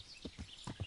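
Horse hooves clip-clopping in the video game Kingdom Come Deliverance, four soft quick thuds in an uneven rhythm, faint and close.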